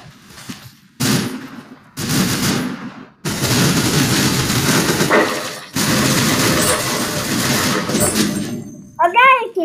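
AK rifle firing in Roblox Arsenal, with several long, loud automatic bursts separated by short gaps and a sharp chirping effect at the very end, while speech runs alongside.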